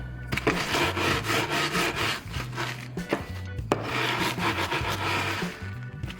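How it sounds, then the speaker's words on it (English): Graham crackers are crushed for pumpkin cheesecake bars, producing close, repeated rough rubbing and crunching strokes with scraping pauses, steady and unbroken by talk. "crushing 1 cup of graham crackers and placing that into a bowl"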